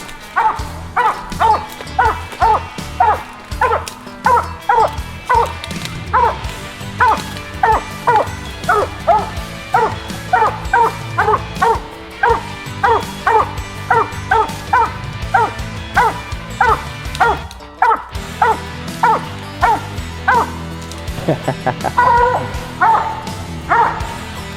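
A hunting hound at a treed quarry gives repeated barks and yips in a steady, rhythmic series, fairly close and loud, continuing throughout with only brief pauses.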